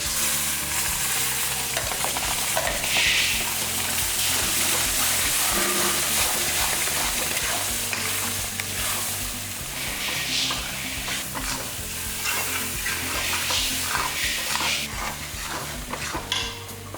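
Ground curry leaf paste sizzling as it is fried in a pan, a steady loud hiss with repeated scraping and clinking from stirring throughout, with no voices.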